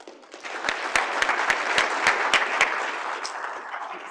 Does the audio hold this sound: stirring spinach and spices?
no